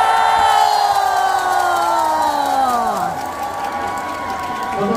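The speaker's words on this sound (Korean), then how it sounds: "큰 박수를 보내주시기 바랍니다" An audience at an outdoor song contest cheers for the twelve competing teams, with a long drawn-out cry whose pitch falls over a dense wash of clapping and crowd noise that fades gradually over five seconds.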